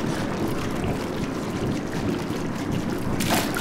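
Water flowing steadily in a Portal 2 test chamber over conversion gel, a continuous broadband rush like surf or wind that holds at an even level throughout, with a brief brighter hiss near the end.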